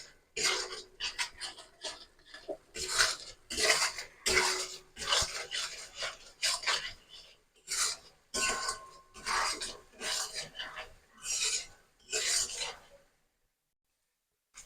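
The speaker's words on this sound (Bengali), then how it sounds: "এবার আমি মশলাটা ভালো করে কষিয়ে নেব।" A spice paste with tomato and salt is stirred and fried in oil in a pan, heard as repeated scraping and rasping strokes in an irregular rhythm, close and moderately loud, ending in silence.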